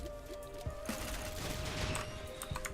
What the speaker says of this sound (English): the first point of impact, it's seeming that we are getting explosions